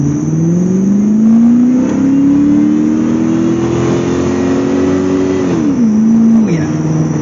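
A car with a Quadrajet carburetor accelerates hard from low gear, its engine note climbing steadily before a quick upshift drops the pitch, then pulling again, loud and close.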